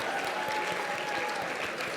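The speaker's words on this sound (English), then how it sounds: "Please give them a round of applause." Dinner audience at an annual environmental leadership event applauding, a loud, sustained wash of clapping from a large room, steady for the whole stretch.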